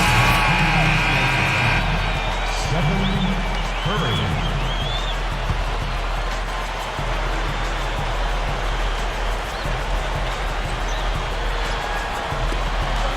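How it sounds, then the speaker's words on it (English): A capacity arena crowd in a basketball video game set in downtown Salt Lake City, Utah, gives a sustained roar and cheer with a few whoops, and a ball bounce sounds early on. The crowd noise stays fairly loud throughout. "We've got a capacity crowd inside the arena here in downtown Salt Lake City, Utah."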